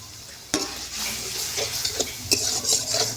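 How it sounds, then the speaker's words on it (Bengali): Marinated chicken pieces for chicken Patiala sizzle in a pan while a spatula stirs and scrapes them, steady frying hiss with repeated clinks and scrapes up close. "আর এই সময় হালকা হালকা করে কষতে থাকবো"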